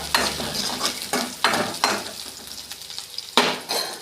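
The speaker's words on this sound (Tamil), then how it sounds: "வெங்காயம் 2 மிளகாய் போட்டு நல்லா வணக்கணுங்க" Onions and chillies sauté in hot oil with mustard seeds, a steady sizzle under repeated scraping strokes of a spoon against the pan, close and clear.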